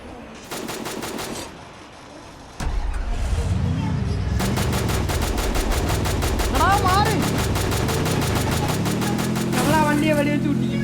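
Rapid automatic gunfire from the Free Fire battle royale game, loud dense bursts at the start and again through most of the clip, layered over a droning in-game vehicle engine, with no talk.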